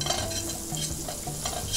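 Butter and a meat reduction sizzle in a frying pan already used for vegetables, a steady close crackle broken by scraping stirring strokes.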